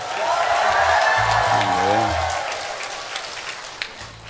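Audience applause during a retreat talk given by a priest at a retreat house, a broad steady wash of clapping that fades gradually over a few seconds.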